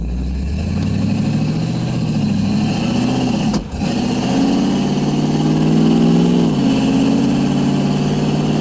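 Steady, loud running of a small-block Chevy 355 V8 swapped into a 1987 Toyota 4WD pickup with a 700R4 transmission, a deep continuous drone that shifts in pitch slightly as revs rise and fall, with one brief dip midway.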